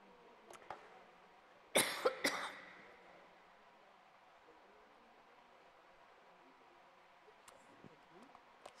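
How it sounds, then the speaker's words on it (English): A couple of sharp coughs close by during a lecture, followed by quiet room noise and faint rustling. "Once you get into a cycle of coughing, it's very hard to get out of it."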